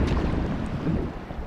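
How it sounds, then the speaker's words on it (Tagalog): Sea waves wash over a rocky fishing spot, a loud, broad rushing roar with wind buffeting the microphone and no voices. "padaanin mo natin yung alon para hindi tayo madala"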